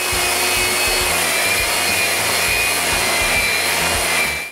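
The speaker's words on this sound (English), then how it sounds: "So I sand them again with the sander at 80 grit." Power sander working wooden stops at 80 grit, a steady loud continuous whirring and rubbing hum held without pause for several seconds before cutting off at the very end.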